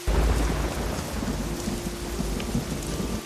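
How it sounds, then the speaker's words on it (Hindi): Heavy rain pours steadily while deep thunder rumbles low and close underneath, with no voices. "आज तो लगता है सुबह तक बारिश नहीं रुकेगी।"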